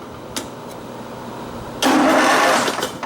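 Partway through, an Ariens Emperor garden tractor's starter motor kicks in with a steady, loud mechanical whirring that cranks the engine for over a second without it catching, following a quiet stretch with a couple of faint clicks.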